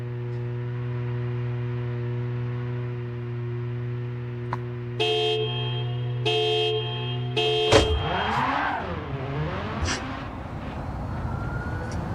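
A car horn in the racing video game Gran Turismo 7 gives three short honks, then a longer blast over a steady engine drone.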